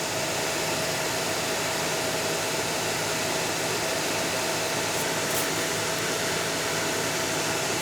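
A 2003 Mitsubishi Galant's heater fan blows air through the cabin vents, a steady loud broadband whoosh with a faint hum beneath, continuous and unchanging from start to finish.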